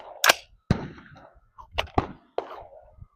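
5.56 green tip rifle rounds and ball ammo fired at a budget Temu Level 4 body armor plate from about 15 yards, several sharp loud cracks in quick pairs with brief gaps between them.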